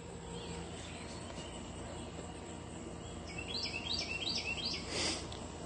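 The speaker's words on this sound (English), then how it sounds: "The birds are singing." Birds singing outdoors at sunrise on a mild summer morning: a faint insect drone hangs in the background until a bird's repeated chirping phrases start about halfway through, moderately distant, with no talking.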